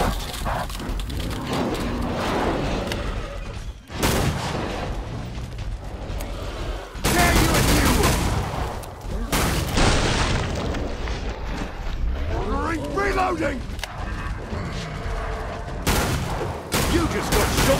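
Heavy gunfire from the horror shooter Killing Floor 2 on Hell on Earth difficulty: dense bursts and booming blasts that come close together with short gaps, loud throughout, with game voices and other noises mixed in.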